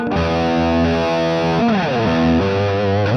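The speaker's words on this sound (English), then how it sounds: "anything that you'll hear now is just coming directly out of the guitar" Heavily distorted electric guitar with a chorus-like shimmer from a Mooer GTRS M810's built-in onboard effects, sustained chords ringing loud and close, shifting pitch partway through.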